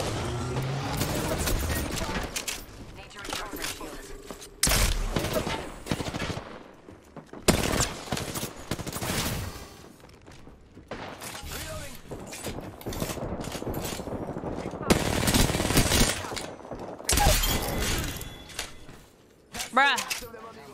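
Repeated shotgun blasts from the Peacekeeper in the game Apex Legends, loud bursts every few seconds over busy game noise, with a voice talking throughout.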